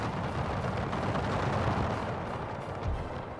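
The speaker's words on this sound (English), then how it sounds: "they're pushing down a lot of fire on this side" Dense, continuous battlefield roar of massed rifle fire and artillery in an Austro-Prussian War video game, with volleys rolling together into a steady, heavy rumble and no voices.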